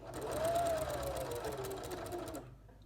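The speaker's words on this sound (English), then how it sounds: "So I'll just sew to here and reverse stitch." Sewing machine running a steady close stitching burst on quilt binding, then reverse stitching, with a continuous whirring hum that stops abruptly after about two and a half seconds.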